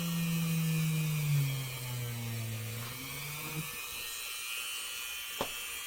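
A small drill bores a hole into the center dimple of a molded plastic cap: a steady motor whine that sags in pitch under load, then cuts off partway through, leaving a quiet room with one faint click.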